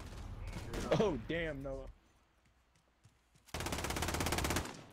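Gunfire in Call of Duty, a loud sustained burst of rapid shots near the end, after excited talk and a quiet pause.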